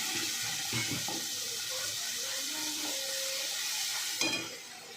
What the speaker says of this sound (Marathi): मसाला आहे ना छान असं परतून घ्यायचं बघा तेलामध्ये 1 मिनिट होईपर्यंत